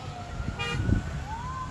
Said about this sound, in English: I'm getting honked at behind me.